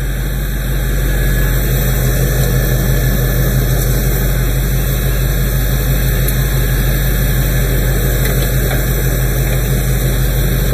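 A car engine idling steadily after being brought back to life and running for a long stretch, a loud continuous drone with a constant tone and no voices.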